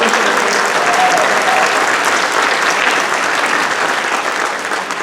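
A large audience at a band's Christmas concert in Boynton Beach, Florida, bursts into loud, sustained applause that fills the whole stretch and fades slightly at the end.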